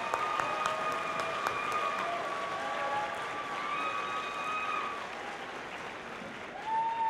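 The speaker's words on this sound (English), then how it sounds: "Please give a round of applause to our resident herd of zebras, I mean our referees." Audience applause rings out for the referees at a FIRST robotics district event opening ceremony, steady clapping that fades slightly toward the end and then swells again, with some whistles or tones over it and no talk.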